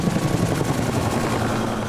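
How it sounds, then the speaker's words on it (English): Firefighting helicopter flying over a grass fire along the American River Parkway in Sacramento County, a loud steady rotor thump and engine roar filling the whole stretch with no talk. "there you can see the helicopter making a very precise water drop on that fire"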